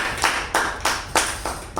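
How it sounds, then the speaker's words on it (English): A small group claps at a Toastmasters meeting, bursts of hand claps arriving in uneven pulses, close and moderately loud with no talking. "Big round of applause to him."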